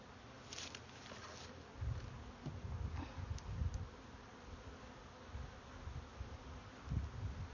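Honey bees buzz around the entrance of a backyard apiary hive, a continuous close, soft insect hum with occasional louder passes as individual bees fly by.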